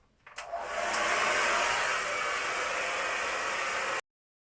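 Hair dryer on medium heat drying wavy hair, a steady close, loud rushing whoosh of air that switches on abruptly and holds evenly for about four seconds before cutting off.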